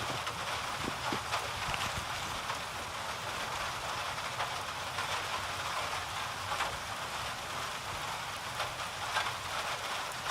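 Rain in a video game forms a constant broadband wash, loud and unbroken, with no one speaking over it.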